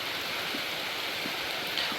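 Steady rain falls during the first rainfall of the year after a hot spell and forest fires, a dense continuous hiss of drops on surfaces with no voices, even and close throughout.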